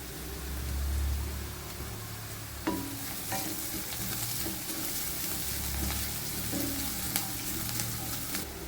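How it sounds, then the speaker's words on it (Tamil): Onions sauté in a pan for a potato stir fry with a continuous close sizzle and crackle. Occasional spatula knocks and scrapes cut through the frying, and no one speaks. "இப்போ வெங்காயம் நல்லா வதங்கிடுச்சு"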